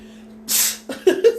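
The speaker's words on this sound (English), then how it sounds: "I sneezed so bad" A single sharp sneeze bursts out after a quiet hum, followed by a couple of short breathy gasps and sniffs, close to the microphone.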